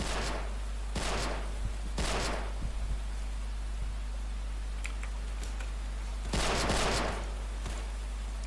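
Bursts of gunfire in the Roblox War Simulator video game, several rapid volleys spaced a few seconds apart over a steady low hum, fairly close and without talking.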